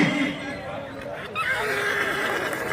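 A horse neighs amid a crowd's chatter at a fair's horse display and a voice commentating over it, the whinny rising midway and holding near the end.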